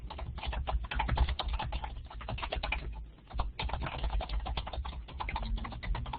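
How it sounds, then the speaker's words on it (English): A computer keyboard is typed on quickly and steadily to write a text message, with dense continuous key clicks close to the microphone and no talking. "and I just type my message"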